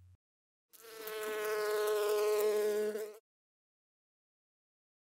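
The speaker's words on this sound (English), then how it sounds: "This might be the coolest species of bee." A Wallace's giant bee gives one steady, loud, close buzz lasting a few seconds, alone in silence before and after.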